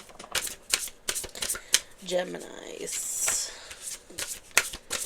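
Oracle cards being shuffled by hand, a run of quick papery riffles and flicks, close and fairly loud, with someone talking briefly over part of it.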